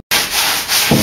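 Wooden sections of a Kenyan top bar beehive being sanded along their edges, a loud continuous close-up rasping rub that starts abruptly after a brief silence and carries on steadily.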